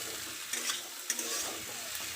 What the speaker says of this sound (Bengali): এবার ঢেঁড়সটা এতে দিয়ে দেবো, নুনটা পরে দেবো। একটু নাড়াচাড়া করে নুন, হলুদ আর লঙ্কার গুঁড়ো অ্যাড করে দেবো।